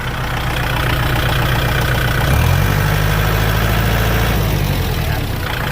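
The diesel engine of a Kubota L4708 tractor idles loudly and steadily nearby, its low rumble shifting slightly partway through before settling into an even chug.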